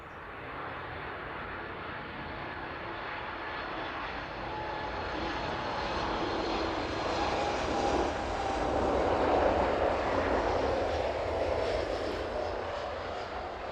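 Airliner landing on runway 09 at East Midlands Airport, a steady, loud engine roar that swells toward the middle and eases slightly, heard alone without talk.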